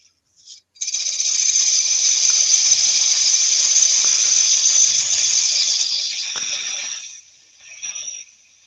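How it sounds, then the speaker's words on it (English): A thin parting tool parts off a wooden piece spinning on a lathe, giving a steady hissing, scraping cut that runs several seconds before tapering off, close and fairly loud with no talk. "I'll use my thin parting tool just to part this off"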